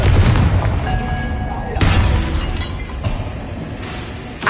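A Confringo blasting spell goes off in a magic-school video game, a loud booming burst of explosion with rumbling decay, followed by further impact noise and a second crack near the end.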